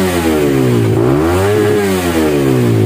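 A Suzuki GSX-S motorcycle engine, fitted with a modified stock exhaust, revs hard toward about 13,000 RPM. The loud, close, buzzing roar climbs in pitch, holds, dips briefly, then rises again with no talking.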